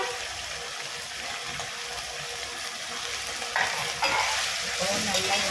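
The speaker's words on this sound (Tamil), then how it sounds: "இப்போ எல்லாத்தையும் நம்ம இதில் போட்டு நல்லா வதக்கிடுவோம்" Tomato, garlic, dried chilli, onion, tamarind and mint sauté together in a pan for a chana dal mint chutney, giving a steady close sizzle with stirring scrapes that grows slightly brighter toward the end.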